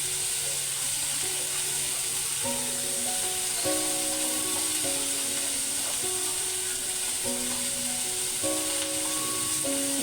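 Steady loud sizzle of chilli mushroom frying in a pan with turmeric and salt, continuous hissing with a soft musical tone playing over it and no talking.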